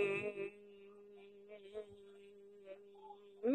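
A human voice imitating a bee's hum during bhramari breathing meditation, a faint steady low buzz held for several seconds with breaths at either end.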